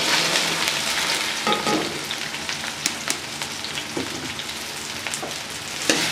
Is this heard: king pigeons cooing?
no